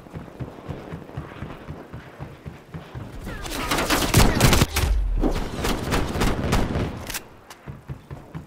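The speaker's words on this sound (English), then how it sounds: "I'm running around with a shotgun" Shotgun blasts and gunfire crack in a Call of Duty: Black Ops Cold War match, a dense cluster of loud bursts in the middle with scattered softer shots before and after, and no clear speech.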